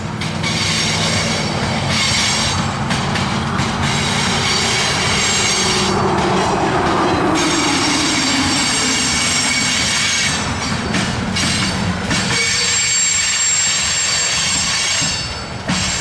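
A loud CSX freight train of ethanol loads rolls past close by, a continuous rumble with squealing wheels and metallic screeching throughout.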